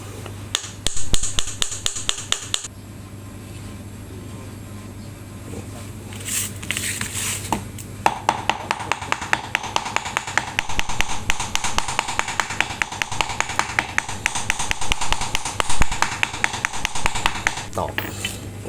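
A seal is tapped into place on a Spark 135 water pump, giving sharp metallic knocks in quick irregular runs, fairly close, with someone talking between and over the taps.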